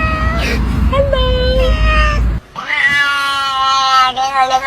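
A cat meows repeatedly in drawn-out, wailing cries at close range, with a low rumbling background in the first half that cuts out midway, and a person speaking around the cat's calls.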